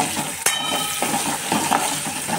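Peanuts frying in a hot pan while being stirred, a steady close sizzle broken by a few sharp scrapes and clinks of the spoon against the pan.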